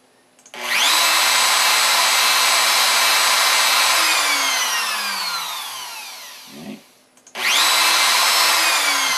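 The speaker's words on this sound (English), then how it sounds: "spindle up here is how you start the spindle" A CNC router spindle, controlled by a Starcnc USB setup, spins up to a loud high whine and then winds down with a falling pitch. It starts again near the end, with no talk.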